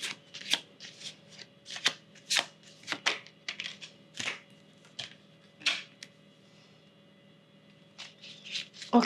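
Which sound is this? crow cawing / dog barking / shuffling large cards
shuffling large cards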